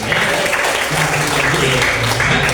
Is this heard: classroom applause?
yes